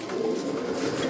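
Pigeons coo steadily inside a breeding loft, a dense, continuous murmur of many birds close by with no break.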